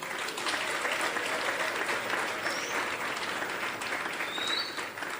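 An audience claps steadily throughout a speech at a gathering, a dense, even wash of applause from many hands that holds for several seconds, then thins slightly at the end.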